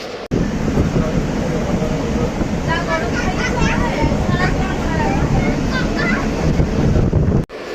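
Steady, loud broadband rumble and rattle fills the inside of a moving passenger train for several seconds, with faint murmuring voices in the background and an abrupt cut near the end.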